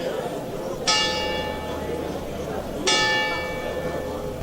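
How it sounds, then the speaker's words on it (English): Church bells ring in the background, two clear bell strikes with ringing overtones about two seconds apart, sounding at a distance over a steady outdoor noise floor. "So you can hear the church bells in the background there."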